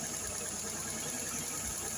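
A rebuilt Nissan RB20 engine idles on its first morning start, running with a steady low rumble and faint vibration, a little rough from an exhaust leak and an air leak, with a belt tensioner noise nearby.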